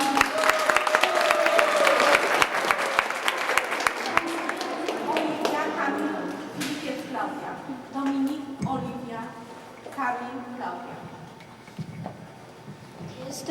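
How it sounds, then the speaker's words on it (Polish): At a first-grade school pledge ceremony, a crowd claps loudly at first; the applause thins and fades as voices rise and take over. "Dla zachęty proszę o brawa."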